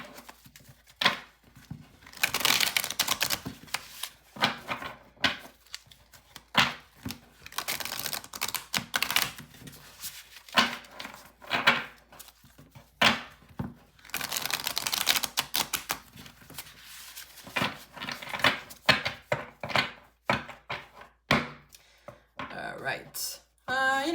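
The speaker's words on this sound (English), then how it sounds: "They give it a last shuffle." Rapid, papery riffling and clicking of tarot cards being shuffled close up, in repeated bursts with short pauses between.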